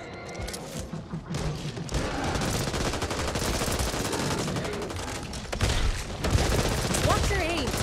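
Sustained gunfire from the zombie shooter Back 4 Blood, with rapid overlapping shots and bursts rattling continuously and loudly for several seconds alongside heavy thuds.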